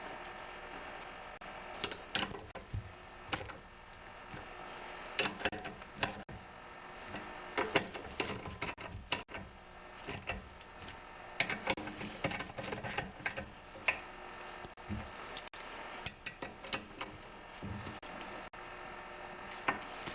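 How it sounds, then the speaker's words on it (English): Snowblower auger gear case bolts being snugged in a crisscross pattern during a gear case repair, heard as a steady run of close, sharp mechanical clicks and ratcheting taps over about twenty seconds with no talking. "So I'm just going to snug the bolts for now."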